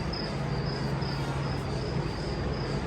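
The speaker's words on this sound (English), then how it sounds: "I know crickets are real." Crickets hidden in a tree somewhere in Africa keep up a continuous shrill trilling in even, repeating pulses over a faint low rumble, with no one talking.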